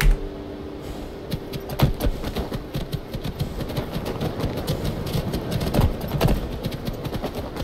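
Hooves clip-clop steadily in a quick rhythm over a rumbling background hum in Skyrim, fairly close and moderately loud.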